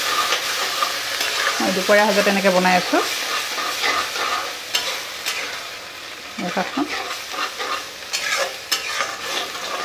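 Mustard greens paste is stir-fried in a pan, giving a steady frying sizzle with scraping stirs throughout, while someone talks briefly over it.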